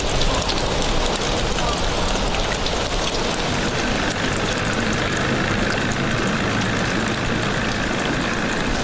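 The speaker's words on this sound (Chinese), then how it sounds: "海风嗖嗖，阴雨绵绵，海水侵蚀，雨水哗啦啦冲刷，让港边的船只显得斑驳破旧" Steady heavy rain pours down at a seaside harbour, a dense, loud patter and hiss that continues unbroken, with a faint low engine rumble underneath.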